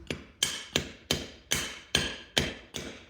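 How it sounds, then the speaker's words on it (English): Eight sharp hammer blows on a metal bracket set on the ground, evenly spaced and close, each ringing briefly before the next strike. "I can also set this on the ground and hit it with a hammer."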